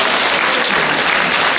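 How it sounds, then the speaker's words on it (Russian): A concert audience claps together in steady, dense applause, loud and close, filling the short moment without any voices. "Это называется аплодисменты."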